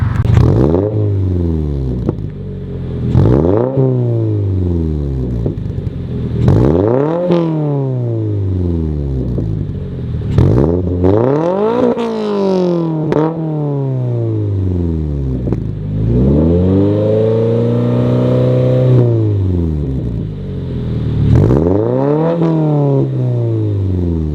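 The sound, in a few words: Subaru BRZ / Toyota GR86 with MBRP single exhaust revving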